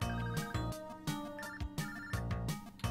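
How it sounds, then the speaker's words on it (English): A phone ringtone plays beside someone during a Spelunky gaming session, a repeating electronic melody with rhythmic pulses, fairly faint and unaccompanied by talk. "And my phone is ringing next to me."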